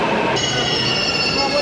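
A New Delhi Metro train runs along the track with a continuous rumbling roar and a high, sustained wheel squeal that rises in partway through, heard from inside the car.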